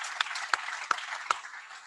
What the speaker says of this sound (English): Just going to give a round of applause for those.